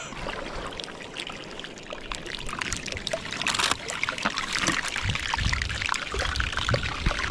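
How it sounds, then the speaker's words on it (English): An iceberg floating in ocean water of about 40-45 degrees crackles and fizzes with a dense, continuous stream of sharp pops and sizzling ticks, steady and fairly close, with no voices. "Oh, this iceberg's making crazy noises. It sounds like it's being deep fried."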